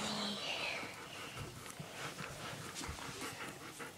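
A camping dog pants in quick, soft breaths close by, mixed with thin, high whimpers, fairly faint against a quiet background.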